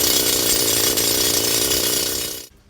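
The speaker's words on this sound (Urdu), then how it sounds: "یہ مزدور ڈرل مشین سے ایک اور سرنگ بنا رہے ہیں" A drill machine bores a new tunnel into rock at a pink topaz gem mine in Swabi, a loud continuous grinding, rattling mechanical drone that holds steady and then cuts off abruptly near the end.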